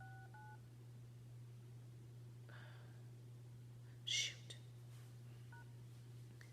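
Telephone keypad tones sound while an access code is entered on a conference call line, a few short beeps at the start and end with a quiet steady hum throughout and a brief muttered word in between.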